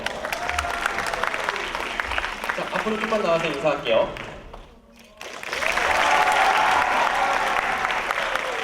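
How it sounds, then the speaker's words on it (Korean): Audience applauding dance teachers after a contemporary dance performance at a school ballet event: loud, sustained clapping and crowd noise under a host's amplified voice, dipping briefly into near-quiet before swelling again even louder. "무대 위에서 열심히 춤춰준 다른 선생님들께도 박수 한번 줄게요"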